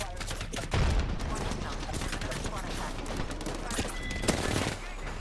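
Gunfire in the Apex Legends video game, a dense continuous barrage of rapid shots with a heavier burst near the start, loud and busy throughout with voices talking underneath.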